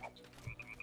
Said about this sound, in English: I have yet to see a frog, but I can definitely hear them.